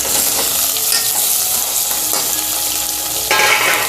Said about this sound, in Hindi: चिकन को अच्छे से तेल में फ्राई करेंगे तेज आंच में